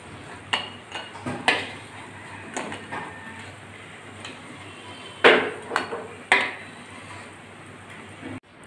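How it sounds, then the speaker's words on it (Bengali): Pumpkin leaf fritters are turned one by one in a frying pan, giving a few sharp metallic clinks and taps of utensil on pan, spaced irregularly over a faint background, with no talking. "বড়াগুলো একটা একটা করে আমি উল্টে দিচ্ছি"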